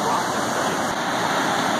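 River water pours over a dam with a loud, steady rushing roar, continuous and close, filling the whole clip without a break.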